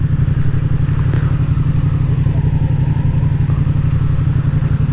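A Honda Biz motorcycle engine runs steadily at close range with a constant low drone. The gear shifts through the foot pedal are not clearly distinguishable within it.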